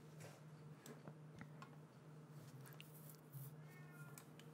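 A pet cat meows indoors several times, mid-loud and near, over a steady low hum and soft ticking, with no talking.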